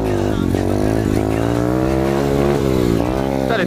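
Motorcycle doing a wheelie along a forest trail, its engine droning loud and steady with rising and falling revs throughout, close to the rider.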